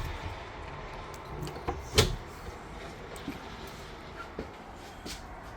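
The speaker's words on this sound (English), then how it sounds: "See more drawers. And the cupboards up top." Kitchen drawers and cupboards in a 2024 North Trail 22RBS travel trailer open and close with light knocks and one sharper thump, faint clicks scattered around it in a quiet interior.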